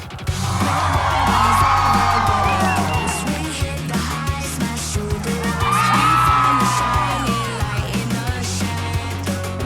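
Spectators at the Aquabike Grand Prix of Lake Toba cheer and whoop in loud swelling waves over a steady low engine drone from the watercraft.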